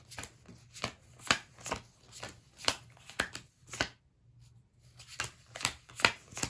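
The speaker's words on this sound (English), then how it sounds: "I'm gonna deal the deck into 4 piles" A deck of playing cards is dealt by hand into four piles, each card landing with a crisp, close slap in a steady rhythm, broken by a short pause midway before the dealing resumes.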